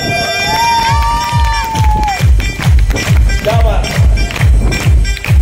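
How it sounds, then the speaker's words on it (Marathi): A crowd claps in a steady unison beat at a celebration of Dr. Babasaheb Ambedkar's 133rd birth anniversary (Bhim Jayanti), with bright whistle-like tones and crowd voices mixed in. "एका जोरात टाळ्या टाळ्या"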